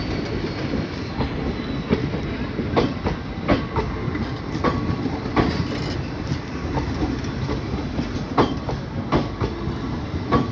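A WDP4D diesel locomotive from Izzatnagar hauls the Bareilly City–Tanakpur passenger train, a continuous loud rumble with steady rhythmic clickety-clack of wagon wheels over rail joints, heard close by throughout without any talk.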